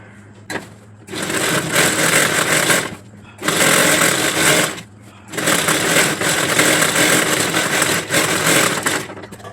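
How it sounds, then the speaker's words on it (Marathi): Sewing machine stitching a petticoat waistband: loud, close whirring runs of several seconds each, separated by short pauses. "पूर्ण फोल्ड करायची आणि शिलाई मारून घ्यायची आणि पूर्ण सरळ शिलाई मारायची"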